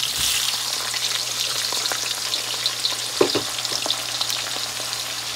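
Chopped medium onion sizzles steadily in hot oil for karahi gosht. The frying hiss is continuous, with a couple of brief clinks of stirring partway through and a low hum underneath.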